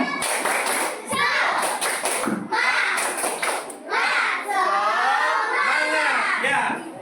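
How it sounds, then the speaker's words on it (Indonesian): A classroom of children does a rhythmic 'tepuk semangat' spirit clap, with loud, close bursts of patterned clapping mixed with shouted chanting and chatter from the class. "Ya, kita tepuk semangat sekali lagi"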